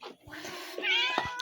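Several hungry pet cats meowing at feeding time, a couple of close, insistent meows with short breathy cries between them, loud and alone with no talking.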